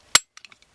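A Kahr K9/K40 Elite 98 pistol slide snaps into place during reassembly with one sharp, close metallic click, followed by a few faint small rattles.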